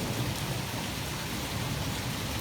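Heavy rain pours steadily and loudly through a strong thunderstorm with pea-size hail, a dense unbroken roar with no talk.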